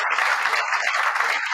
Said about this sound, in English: So a massive round of applause to Red Bull and Ellie's team.